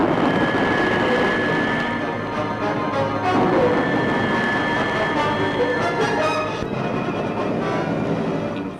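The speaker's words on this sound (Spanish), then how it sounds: "Los aviones adictos al gobierno inician el bombardeo final" Military aircraft in a bombing raid on a naval base, a steady loud droning roar that holds throughout with no talk over it.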